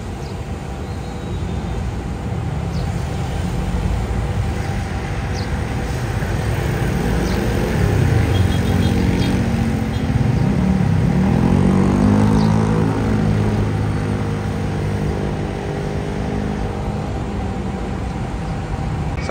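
Steady, dense roar of vehicle traffic echoing inside a road tunnel in Metro Manila, with passing engines swelling and fading under a constant rumble and no voices.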